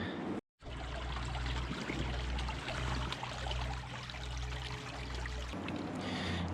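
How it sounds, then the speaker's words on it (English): Creek water pours and trickles steadily around a gold dredge setup in Oregon's Rogue River watershed, a continuous close rushing with a low rhythmic throb beneath, cutting out briefly near the start. "so I'm down here at the creek"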